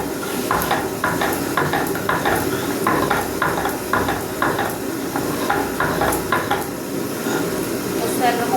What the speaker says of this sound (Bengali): মিক্সিতে বাটা যাবে না, ওই জন্য হাতে শিলে বাটছি